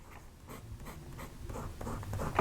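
A broad italic fountain pen nib scratches across paper in quick strokes, a dry rhythmic scritching that grows slightly louder, close up with no voices.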